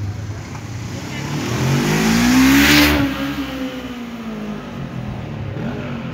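An Audi RS5 engine revs and passes close by on a city street, swelling to a loud peak then easing off, with traffic and street noise around it.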